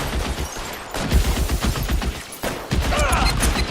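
Gunfire in the L.A. Noire video game, bursts of shots crackling across a dense, noisy mix, fairly loud and continuous with brief lulls.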